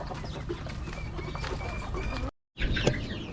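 Young Rhode Island Red chicks, recently moved onto the ground, cluck and cheep close by in a steady stream of small chirps, with a brief gap of silence near the end.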